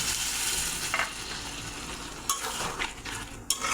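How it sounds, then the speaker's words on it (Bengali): Water poured into a pan of frying spiced egg mixture sets off a steady, close sizzle, broken by a few sharp clinks of a spoon or spatula against the pan. "এখন একটু জল দিয়ে দেবো।"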